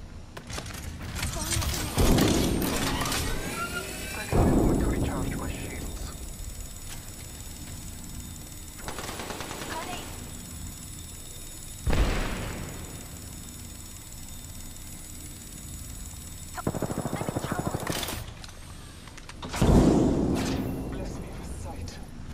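A frag grenade explodes in Rainbow Six Siege amid a tactical firefight, with several heavy booming blasts spaced through the scene and a low rumble between them, under intermittent game voice lines.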